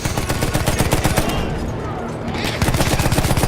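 Rapid bursts of machine gun fire from a trench emplacement in Battlefield 1, loud and close, with rhythmic rattling that pauses briefly midway and then resumes at full intensity.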